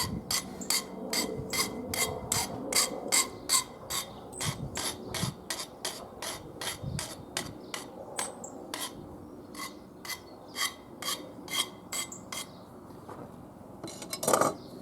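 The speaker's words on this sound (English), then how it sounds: "I'm just going to file those rough edges off." A hand file rasps across rough edges of small metal pieces, dozens of quick, regular strokes in a steady back-and-forth rhythm, close and fairly quiet with no talking.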